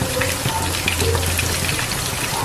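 Squid rings (kanava 65) frying in hot oil in a home kitchen pan, giving a steady, dense sizzle and crackle that runs unbroken and fairly loud throughout.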